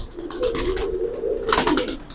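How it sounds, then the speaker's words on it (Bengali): Jiragola pigeons cooing close by, a steady run of soft throaty coos with a louder burst of cooing toward the end. "ভাই জিরাগলা কবুতর"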